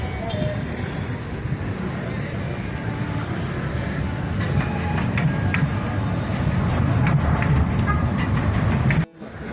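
Trams moving in and out of Grand Bazaar station in Istanbul, a loud continuous rumble of rail and street traffic with rising rattles and clatter, a voice talking over it, ending in a brief dip.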